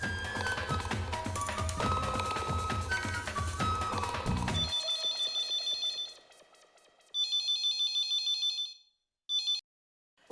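A telephone rings during a call: a tinny electronic ringtone pattern repeats in short bursts after music fades out, fairly loud with brief gaps.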